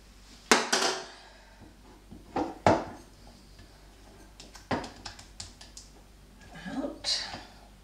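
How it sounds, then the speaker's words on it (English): A bendy spatula scraping homemade natural skin cream out of a bowl: several short, close bursts of scraping and clacking against the bowl rim with gaps between them, and someone talks in between. "I'm going to get out my beautiful bendy gets everything out of the bowl spatula, and I'm going to scrape all that"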